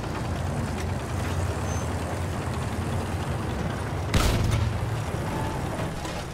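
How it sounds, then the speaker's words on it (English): A heavy tank in the Battlefield 1 video game: a dense, steady engine rumble and clatter with one heavy boom partway through, loud and close, with no voices. "I went with the heavy tank."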